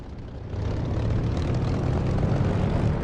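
A simulated propeller aircraft engine in the DCS flight game throttles up for takeoff, the roar building quickly after a quiet start and then holding as a loud, steady drone.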